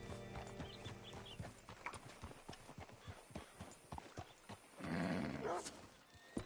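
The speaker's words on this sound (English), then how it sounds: "Hitch your horse up here." Horse hooves clip-clop steadily in Red Dead Redemption 2, with a brief neigh and other game ambience in the mix, moderately loud.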